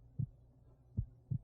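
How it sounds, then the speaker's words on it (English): Three slow, low thumping heartbeats sound in a Clay-Scape video game X-ray scene, evenly spaced and fairly soft, with no talk over them. "you got a little heart beating in you"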